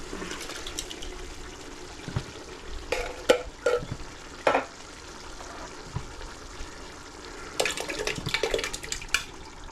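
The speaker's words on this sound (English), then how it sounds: "Bring that all together and combine it." Homemade meat sauce with crushed tomatoes is stirred in a pot, with intermittent wet scraping and sloshing bursts over a low background simmer.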